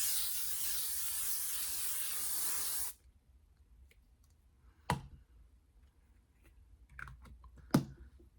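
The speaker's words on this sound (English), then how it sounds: "I'm just going to go in with the L'Oreal Infallible 3 Second Setting Mist" A L'Oreal Infallible 3 Second Setting Mist sprays onto a face during a makeup routine, giving one long, close hiss of about three seconds, followed by quiet scattered clicks and taps.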